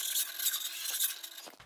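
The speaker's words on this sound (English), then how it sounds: "if you have any lumps or ridges, you can knock it off with a knife" A knife scrapes dried joint compound to knock off lumps and ridges, a short, gritty scraping across the hard dry surface, a few quick rasping strokes close up, ending abruptly.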